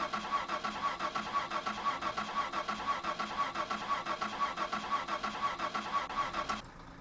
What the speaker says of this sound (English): So now, this car has kind of a tricky ignition.